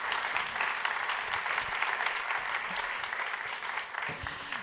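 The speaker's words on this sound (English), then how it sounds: "Let's give him a round of applause" Steady, full audience applause in a conference room at an ocean innovation event, dense clapping sustained for several seconds with faint voices underneath.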